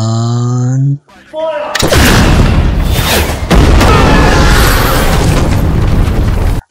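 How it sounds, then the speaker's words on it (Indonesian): Artillery cannon fire in a movie scene: a huge booming blast that swells into a sustained roaring rumble of explosions, loud and close, following a brief musical tone at the start. "Smith pun segera memerintahkan anak buahnya untuk menembakkan senjata artileri milik Declan"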